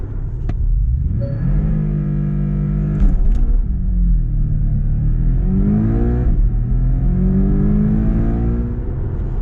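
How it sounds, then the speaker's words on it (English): A 2021 Porsche 718 Cayman GTS, rear-wheel drive, makes a launch control start on a wet surface: a loud, close engine howl climbs steadily, with brief dips as it shifts up through the gears. "And that was launch control in the wet with rear wheel drive."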